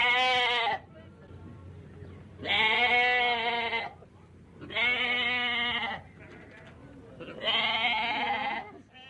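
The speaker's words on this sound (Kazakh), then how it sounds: "Қой маңырайды." Sheep bleating loudly and close, four long wavering calls in a row separated by short pauses, with nothing else in the background.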